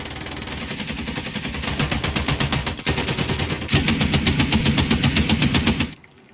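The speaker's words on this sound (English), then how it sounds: "Machine guns, with the exception of the 50 cal," Sustained rapid machine gun fire in the War Thunder combat game, a dense rattling burst of steady shots that keeps up for about six seconds with a brief pause near the middle before cutting off.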